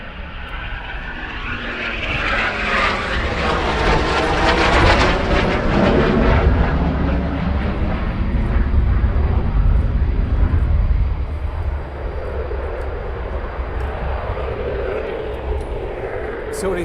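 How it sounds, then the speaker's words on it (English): Inbound aircraft at RAF Coningsby, a loud, sustained jet engine roar that swells, peaks and slowly fades over about ten seconds, with outdoor crowd noise and a person talking beneath it. "So we've got an inbound aircraft."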